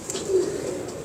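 A pigeon of a quail-like type coos once in a low, soft, steady tone, close by and fairly quiet, with no talk over it.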